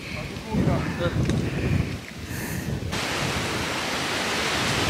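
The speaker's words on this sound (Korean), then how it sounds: "지리산의 바람소리" Steady broadband mountain wind on Jirisan roaring across the microphone, gusty and loud at first, then settling into a constant rushing hiss.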